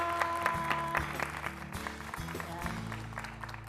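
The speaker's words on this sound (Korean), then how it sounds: "박수 부탁드립니다" An audience at a church testimony event applauds as a speaker is welcomed to the stage. The clapping is faint and steady beneath sustained musical tones.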